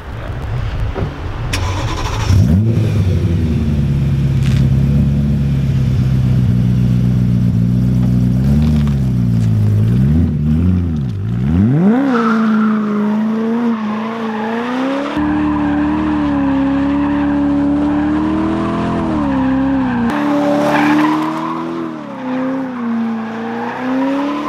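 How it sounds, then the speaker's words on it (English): A BMW E92 M3 does a burnout, its engine revving hard in long rising and falling pulls while the tires squeal loudly up close, then settling into a sustained high-rev howl under the continuous screech. "now it's time to do the burnout"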